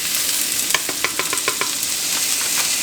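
Rice grains toasted in butter in a pan, giving a steady dry sizzle broken by a run of quick, evenly spaced stirring scrapes and clicks close to the pan, with no one talking.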